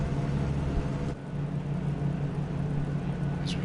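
Race car engines running on the starting grid at Monza for round 2 of Next Gen Season 4, a loud sustained low mechanical rumble with a shift midway and a brief high whine near the end.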